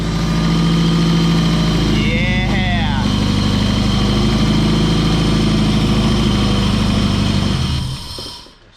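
Nissan 180SX idling with its exhaust fitted: a steady, rumbling low drone that holds even throughout, with a brief voice-like sweep early on, before the engine cuts off and the sound dies away near the end.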